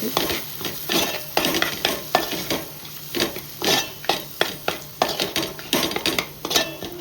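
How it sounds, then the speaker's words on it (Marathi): Spices for chicken biryani are sautéed in a pot with a soft sizzle, while a spoon scrapes and clinks against the metal in steady, repeated strokes, close and clear. There is no talk. "दोन मिनटं मसाले परतून घेऊ आपण"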